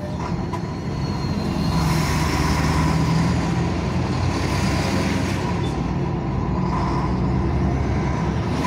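Heavy road traffic on a busy highway near Estância, Sergipe, with a big blue vehicle overtaking on the shoulder: a steady, loud roar of engines and tires rumbling past, with no speech.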